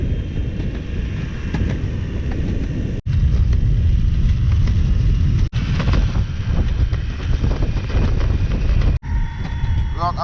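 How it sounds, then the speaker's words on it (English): Strong gusting wind buffets the microphone in a Long Beach parking lot, a loud continuous low roar with brief dropouts, while traffic hums in the background. "It's crazy windy."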